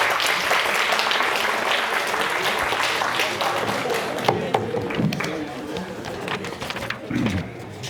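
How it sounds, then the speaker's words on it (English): An audience claps for a long stretch during a storytelling workshop, with dense, steady applause in the room. Scattered voices and louder single claps stand out as the clapping continues. "So let's clap for all the other stories."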